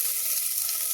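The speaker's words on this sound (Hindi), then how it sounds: "और थोड़ा सा हम आलू भी फोड़ के डाल देंगे। इसको भी भूनेंगे, थोड़ा सा भून लेंगे" Vegetables and crumbled boiled potato frying in a pan for dhuska, a steady loud hiss of sizzling that continues evenly throughout with no talk.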